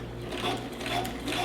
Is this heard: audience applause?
no